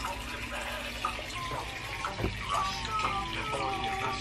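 Child brushing teeth at a bathroom sink with the tap running, a steady close water splash with light scrubbing and clinks on top, and faint voices now and then.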